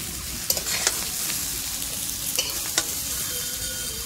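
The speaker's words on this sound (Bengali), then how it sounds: "এখানে আমার এঁচোড়টাও কিন্তু ভাজা হয়ে গেছে পুরো লাল লাল করে" Young jackfruit fries in hot oil in a pan, a steady soft sizzle broken by a few sharp scraping knocks of a spatula stirring, faint and close with no talking.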